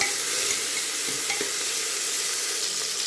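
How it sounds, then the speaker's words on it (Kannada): Tomatoes frying in a pan for biryani give off a loud, steady sizzle with a brief stirring scrape partway through, no voices. "ಈಗ ಟೊಮಟೊನೂ ಹಾಕ್ತಾಯಿದ್ದೀನಿ. ಟೊಮಟೊನೂ ಸ್ವಲ್ಪ ಚೆನ್ನಾಗಿ ಫ್ರೈ ಆಗಬೇಕು."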